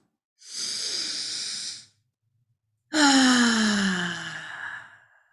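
Two deep, slow exhalations during a guided meditation, each a long breathy whoosh; the second is louder and trails off gradually, with a quiet pause between them and no talking.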